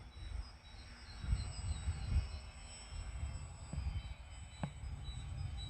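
A Sig Kadet radio-control model airplane flies slowly overhead with its small engine throttled right down. It gives a soft, distant, steady drone, swelling and fading a little, with outdoor background noise around it and no talking.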